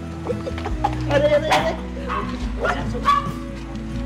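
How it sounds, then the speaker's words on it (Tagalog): A large dog barks several times close by, sharp woofs mixed with whining yelps, while people talk in the background. "May aso dito May aso dito, malaki."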